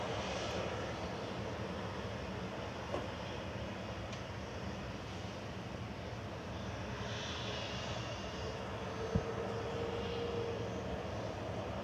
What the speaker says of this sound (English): There's the Kuwait landing.